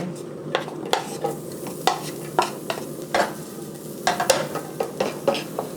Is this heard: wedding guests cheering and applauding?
no